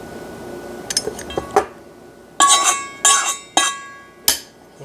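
A whisk clinks against a bowl while powdered sugar glaze is mixed, giving sharp metallic taps and clatters in irregular bursts, close and fairly loud, with quieter gaps between them.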